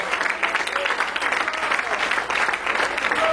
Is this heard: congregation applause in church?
yes